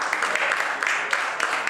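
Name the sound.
round of applause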